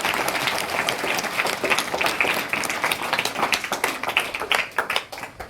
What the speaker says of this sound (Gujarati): આ ત્રણેયને આપણે તાળીઓના ગડગડાટથી વધારીશું